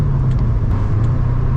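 A 3-valve Ford Mustang accelerates on a bumpy road, its engine a loud, steady low rumble heard from close by for a short burst.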